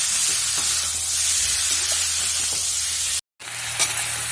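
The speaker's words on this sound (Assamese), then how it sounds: "এনেদৰে ঢাকি নৰখাকৈ মই মাংসখিনি অলপ সময় ভাজি ল'ম।" Continuous close sizzling of chicken frying uncovered in a pan, with faint clinks of stirring and a brief cut near the end.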